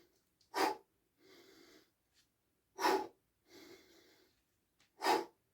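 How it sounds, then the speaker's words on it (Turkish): Three sharp, close inhalations, each followed by a softer, longer exhale, come in an even rhythm while a person works through a front-shoulder exercise with dumbbells. "Nefes alıyoruz. Veriyoruz."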